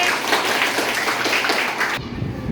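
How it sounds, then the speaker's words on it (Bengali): An audience, apparently children at a health talk, clapping loudly and steadily for about two seconds, then the applause drops off abruptly. "ওর জন্য একটা জোরে তালি হবে"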